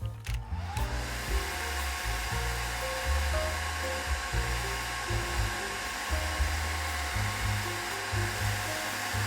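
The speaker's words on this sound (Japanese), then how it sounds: "この状態で一旦ドライヤーで乾かしてしまいます。" A hair dryer blows on wet watercolor paper, switching on with a whoosh and then running as a loud, steady close-up whir with slight wavering for several seconds.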